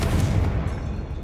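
A Confringo blast spell from Hogwarts Legacy goes off as a loud, deep booming burst that fills the whole short moment, a heavy rumbling explosion close up with no other sounds.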